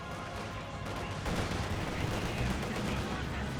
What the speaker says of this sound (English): he has access to 150mm mortars. It sounds like here one.